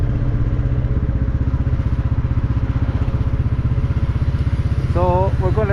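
Royal Enfield Classic 350 single-cylinder engine thumping steadily while riding a coastal road, loud and close with constant rhythmic pulsing and wind, a voice briefly heard near the end.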